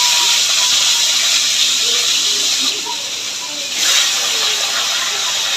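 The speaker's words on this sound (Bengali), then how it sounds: "এই মাছের মাথাটা ভেজে নেব" Loud continuous hissing sizzle of a fish head frying in oil, steady throughout with a short dip midway, heard up close.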